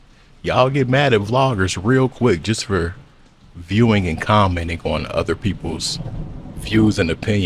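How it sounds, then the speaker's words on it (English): Thunder rumbles with rain falling in the background, sitting low beneath continuous close-up talk from a vlogger that runs through most of the stretch. "Sorry about that thunder in the back."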